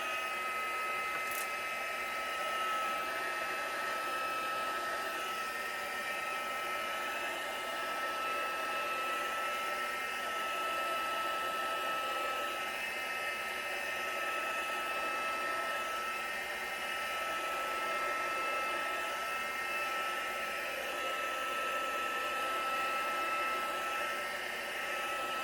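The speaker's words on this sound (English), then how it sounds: "I have a craft tool that will dry it out" A craft heat tool blows over acrylic paint to dry it, a steady close whirring fan hiss with a faint tonal whine, constant in level throughout and heard alone.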